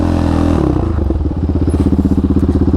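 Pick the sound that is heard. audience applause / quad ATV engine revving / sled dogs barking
quad ATV engine revving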